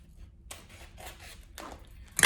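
Scissors cut through a folded strip of wire-edged ribbon for a ribbon Christmas tree, with several soft snipping and rustling bursts and a louder crisp snip at the very end.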